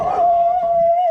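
A dog named Barky lets out a short, steady, high-pitched howl lasting about a second, close and fairly loud.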